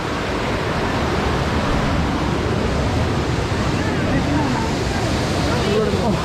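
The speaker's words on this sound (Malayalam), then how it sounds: "അതാണ് വാട്ടർഫാൾസ് നല്ല രീതിയിൽ കലങ്ങി മറിഞ്ഞാണ് ഒഴുകുന്നത്" Kacharam waterfall in Kanthalloor pours turbulent, muddy floodwater in a steady, loud, broadband roar that holds unbroken from start to end, close by with no clear talk over it.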